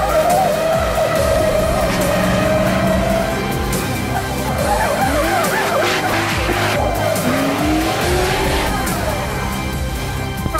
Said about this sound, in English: You kind of want to be pitching the car drifting before you even get into the intersection.